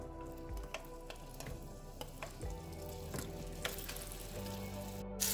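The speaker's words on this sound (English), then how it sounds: "So let's fry the pepper first." Pepper fries in a pan for an egg chilly curry, a quiet, soft sizzle with scattered small ticks and clinks of stirring, close but faint, no voices.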